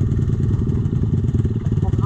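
A 190 enduro motorcycle engine runs on a slippery trail with a close, loud, rough low thrum and chugging pulses throughout. A person talks over the engine.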